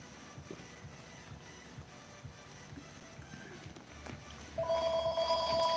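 A telephone starts ringing near the end, a steady electronic ring coming in over a quiet room with light scattered background noise and no talking.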